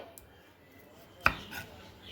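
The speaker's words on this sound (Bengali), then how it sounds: "তো আমি এইভাবে আলুটাকে এইভাবে ছোটো ছোটো টুকরো টুকরো করে কেটে নিচ্ছি।" A single sharp knife chop through a potato being cut into small pieces on a board, with a faint clatter just before and quiet surroundings.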